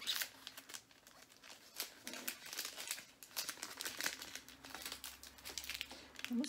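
Crinkling and rustling of packaging as a monthly craft subscription box is opened, with steady close crackles and tearing textures throughout and no talk.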